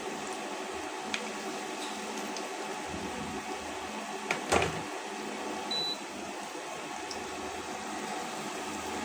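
Bun bread slowly frying in oil, a soft steady sizzle and hiss with a few faint pops and one brief clatter, low and even throughout.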